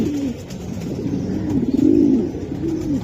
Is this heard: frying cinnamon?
no